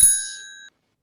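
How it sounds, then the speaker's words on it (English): A single bright bell strike used as a sound effect in a radio play, ringing clearly with a clean metallic tone that decays for about half a second before cutting off abruptly. "Truly the most impressive bell I've ever seen"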